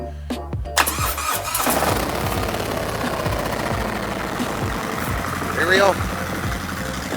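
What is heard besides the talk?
2017 Harley-Davidson Road Glide motorcycle engine starting and idling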